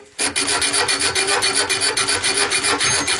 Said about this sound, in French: je prenne la queue de rat et que je lime un peu sur le côté là